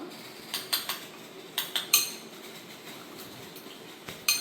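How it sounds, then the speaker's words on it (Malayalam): Soap ingredients mixed with honey in a bowl, giving a series of sharp clinks and scrapes of a utensil against the bowl in irregular bursts, close and fairly quiet, with no voices. "അപ്പം നമുക്ക് നല്ലതുപോലെ മിക്സ് ചെയ്ത് എടുക്കാം"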